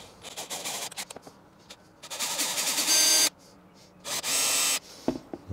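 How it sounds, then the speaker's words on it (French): A small drill bit pre-drills holes for mounting a reversing camera on a Peugeot 207, heard as several short, loud whirring bursts with pauses between, the longer runs near the end, and no talking. "Allez, on va pré-percer avec un petit forêt."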